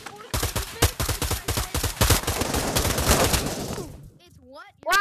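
Rapid gunfire rattles out in the video game Pavlov, a dense close burst of automatic shots lasting several seconds before cutting off, followed by a brief voice.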